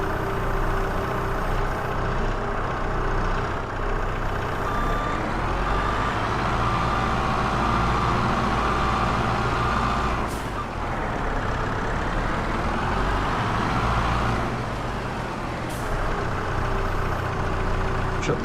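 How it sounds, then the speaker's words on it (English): A skid steer engine in Farming Simulator 22 runs steadily the whole time, a loud diesel drone that rises and falls in pitch as the throttle shifts, with a couple of brief clunks along the way. "Shut the skid steer off."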